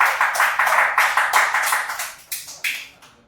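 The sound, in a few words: clapping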